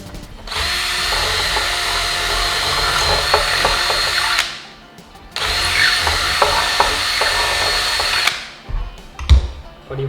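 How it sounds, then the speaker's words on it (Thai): A loud power drill whirs in two long bursts, widening a hole in wood, with a brief pause between them and a few knocks at the end. "เดี๋ยวก็จะเอาสว่านมาควง"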